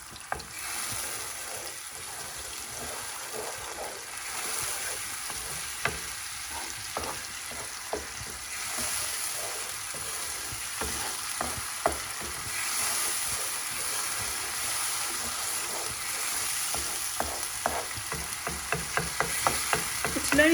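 Fresh onion and garlic fry in a pan for a potato cutlet filling, giving a steady close sizzle with frequent stirring scrapes and clicks throughout, no voices.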